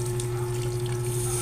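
Tap water runs steadily into a sink during dishwashing practice, a constant close flow with a low steady hum underneath and no talking.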